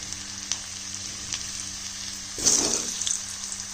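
Cut potato pieces hit hot oil in a pan, a low steady sizzle bursting into a louder, rushing crackle midway as the pieces land, then settling into a busy fry close by.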